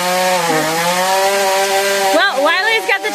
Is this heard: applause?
no